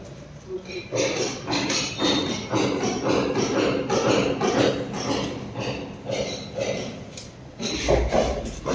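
A wall is struck by hand with a hammer to set a dummy box above a staircase in a duplex building under construction, giving a steady run of repeated close knocks with occasional voices.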